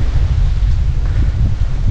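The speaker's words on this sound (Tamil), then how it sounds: "பயங்கரமான காற்று அடிக்குதுங்க." Strong wind buffets the camera microphone in a remote, abandoned hill village near a bear forest, a steady, loud low rumble with constant gusty roughness and no speech.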